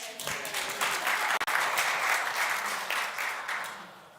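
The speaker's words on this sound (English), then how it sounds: "Give her a round of applause." Applause from a gathered audience at a spiritual talk, a dense, steady patter of many clapping hands held at an even level for several seconds, with a brief dip in the middle and no voices over it.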